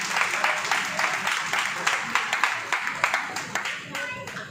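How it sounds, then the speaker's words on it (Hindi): Audience clapping at an award ceremony honouring 10th and 12th grade students in Delhi, a short burst of moderate applause with distinct individual claps that thins out toward the end. "देखिए तालियां बहुत कम रही"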